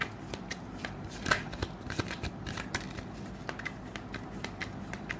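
Tarot cards are shuffled close by in quick, crisp riffling flutters with a few sharper snaps, steady and moderately quiet, with no talking.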